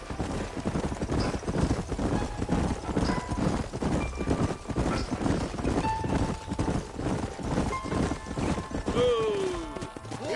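Several horses galloping together in Red Dead Redemption, a steady driving clip-clop of hooves close by with snorts, a whinny near the end, and voices over the riding.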